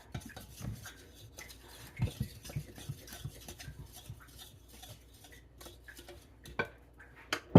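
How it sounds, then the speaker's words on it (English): A utensil scrapes and clinks against a bowl while dry flaky biscuit ingredients are mixed, giving irregular soft ticks and taps close by, with no talking. "we're just going to mix these dry ingredients together well"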